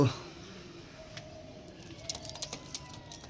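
A pigeon coos softly in low murmurs, with light clicking taps and a faint voice nearby.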